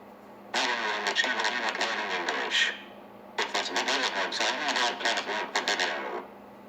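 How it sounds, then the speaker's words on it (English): A synthetic text-to-speech voice, the Daniel UK voice on Android, speaks two phrases through a harsh distortion effect, sounding buzzy and grinding, close and clear, with a pause between them. "let's test another effect: distortion"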